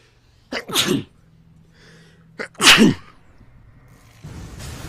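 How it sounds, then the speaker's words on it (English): Two sharp sneezes from a commentator during a Dota 2 match broadcast, close and loud, about two seconds apart, with quiet room tone between and a soft rustle afterward. "I have to sneeze."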